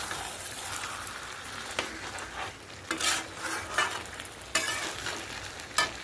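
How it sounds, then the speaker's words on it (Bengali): Potatoes and mutton curry frying in oil in a pan, a steady sizzle with spatula stirring and scraping, sharp clacks of the utensil against the pot at intervals. "আর একটু কষবো।"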